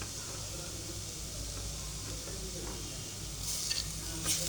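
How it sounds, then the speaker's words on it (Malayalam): Tomatoes frying in a pan while being stirred, a soft continuous sizzle with faint scraping and a couple of sharper clicks toward the end. "ഒന്ന് ഇളക്കി"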